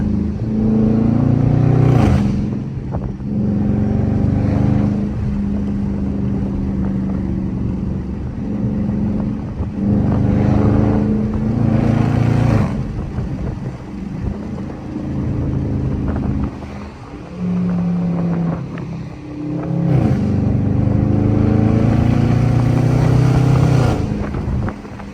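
A Dodge Charger RT cruises at night, its loud V8 engine droning steadily with repeated revs and rising throttle surges between gear changes, close and dominant throughout.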